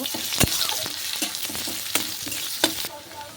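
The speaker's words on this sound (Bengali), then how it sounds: "রসুন ভালো করে ভাজা হয়ে গেছে" Garlic frying in oil with chopped onion while being stirred, a close, even sizzle broken by repeated utensil scrapes and knocks on the pan, fading slightly at the end, no voices.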